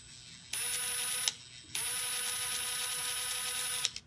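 Makita impact driver spinning at its lowest speed, a steady whining motor tone in two bursts, a short run then a longer one with a brief pause between, close and fairly loud with no talk.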